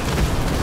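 Grenade explosion in a competitive 2v2 first-person shooter match, a dense low boom filling the short moment with steady rumbling energy and no clear gap.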